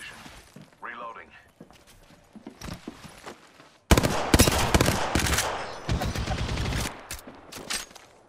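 Video game gunfire erupts suddenly partway through as loud, rapid automatic bursts that keep rattling for a few seconds after quieter footsteps and movement, with a voice talking in the game.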